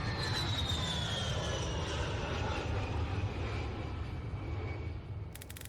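A steady roaring airplane engine in a Roblox game drones loudly and continuously with a slowly falling whine as the aircraft comes down to land, fading slightly at the end with no voices.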